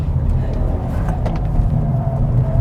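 A race car engine drones steadily from inside the cockpit on a track, a constant low rumble with slight rises as throttle is rolled on.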